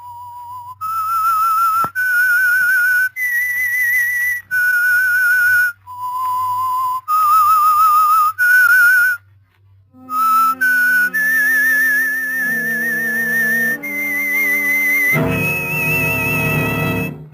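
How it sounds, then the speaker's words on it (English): A lone man whistles the eerie theme tune of the radio drama The Whistler, a loud, clear melody of sustained notes rising and falling, ending with an orchestral sting. "That whistle is your signal, the Whistler."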